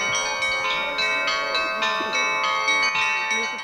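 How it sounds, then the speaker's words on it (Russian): Church bells ring in a rapid, overlapping peal during a religious procession, bright metallic strikes repeating steadily over a low background murmur. "Колокола звонят"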